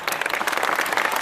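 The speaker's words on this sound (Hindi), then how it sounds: "तालियां मारने का वक्त नहीं है" Brief burst of dense crowd applause at a political speech at Chanchalguda Junior College in Malakpet, steady and loud throughout.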